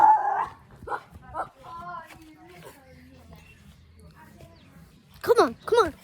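A dog barks and whimpers indoors during a game of fetch, a few high yips and whines early on, then two loud sharp barks near the end, with someone talking in between.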